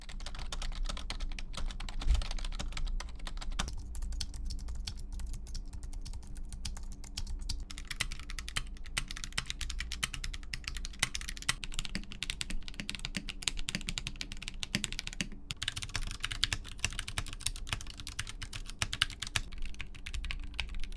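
A run of keyboard typing moves from a cheap $4 keyboard up to a $1,000 one, with dense rapid key clicks and clacks, close and continuous, alone without talk.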